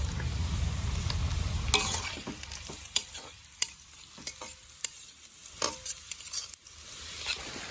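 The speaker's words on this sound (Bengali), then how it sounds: "কিশমিশগুলো ভেজে নেবো, সাথে কাজু আছে। এখন কাজুগুলো দিয়ে দেবো।" Cashews and raisins fry in a pan with a steady close sizzle, broken by repeated clicks and scrapes of a spoon stirring against the metal.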